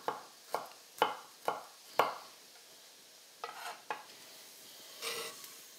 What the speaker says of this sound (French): Notre huile est chaude, on va faire revenir nos petits champignons.